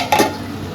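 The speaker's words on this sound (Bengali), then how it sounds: "আর এখানে ফ্রাইড রাইস হবে তার গাজরটা ভাজা হচ্ছে" Carrots fry in a pan for fried rice, a brief close sizzle with a scrape of a stirring utensil.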